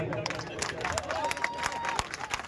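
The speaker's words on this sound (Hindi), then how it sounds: "पुराने कार्यकर्ताओं जोरदार तालियां बजाओ" Party workers at a Hindi political gathering burst into loud, dense clapping, a thick crowd roar of hands with a voice speaking over it throughout.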